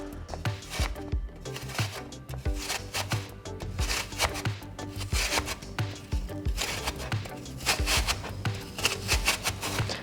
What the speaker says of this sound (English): I'm gonna take my apple and I'm just gonna grate down